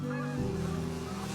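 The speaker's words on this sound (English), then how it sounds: "The geese are returning after a long winter" Geese honk during a spring traditional Cree goose hunt, a steady layered chorus of calls carrying across open land, moderately faint and continuous with no voices.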